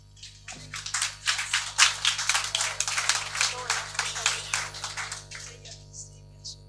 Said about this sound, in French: si vous le voulez bien avec moi, les applaudir